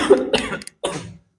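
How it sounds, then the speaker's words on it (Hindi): A man with a cold coughs twice, close and loud: a rough burst of two quick hacks, a short gap, then a single harsher cough that fades into silence. "बीच बीच में थोड़ा खांसी आ जा रहा है"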